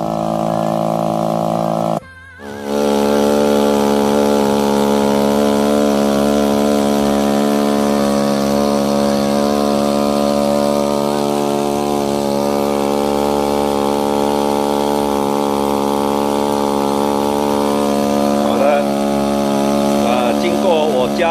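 A Robin ECO2EHR two-stroke water pump engine with a modified muffler runs steadily, a loud, low buzzing drone that briefly dips near the start then holds constant and close.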